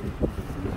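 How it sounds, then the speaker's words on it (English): Wind on a fishing pier at Buckroe, a low rumbling buffet of gusts across the microphone, close and fairly loud for under a second, with no voices. "A little windy out here today"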